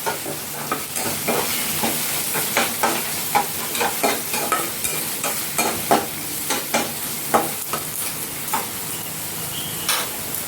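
Onion paste frying and being stirred in a pan, with a steady sizzle and repeated scraping stirs at a regular rhythm, close and fairly loud, no voices.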